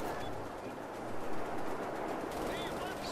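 Sustained automatic fire from a machine gun in the video game Wolfenstein, forming a dense, continuous rattle at moderate volume over its full length, with a voice faintly audible beneath it.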